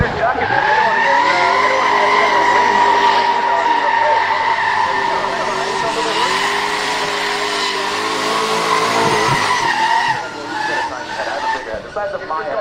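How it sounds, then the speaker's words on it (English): A white GTR drift car does burnouts with loud, sustained tire squeal layered over a revving engine, the screech holding steady before dropping away near the end. "White light GTR, rocking a couple burnouts there."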